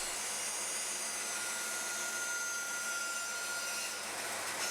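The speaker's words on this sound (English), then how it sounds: "have a go on carving it on the bandsaw" Bandsaw roughing out a wooden axe handle, a steady loud broadband whine and hiss that runs unbroken for several seconds before cutting off abruptly.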